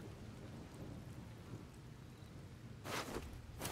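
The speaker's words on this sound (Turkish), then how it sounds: "Gök gürültüsü başladı o sırada." Rain and thunder in the Baldur's Gate 3 video game: a steady low rumble of rainfall, then two loud broadband thunder cracks near the end, with no talking.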